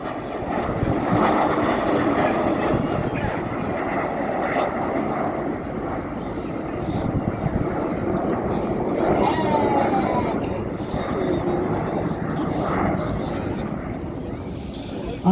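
Red Arrows display jets perform manoeuvres over the seafront at an Armed Forces Day event in Ryde on the Isle of Wight. A continuous, distant roar of jet engines swells and fades beneath a commentator's amplified voice and gusty wind.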